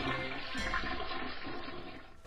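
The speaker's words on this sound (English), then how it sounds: "One flush of a toilet" A household toilet flushes once, a loud rushing swirl of water that surges early and then drains steadily, close and on its own with no voices.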